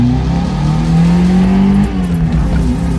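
A 2015 Mazda 3 engine revs loud and close, a steady throaty roar that climbs and dips slightly, holding high throughout.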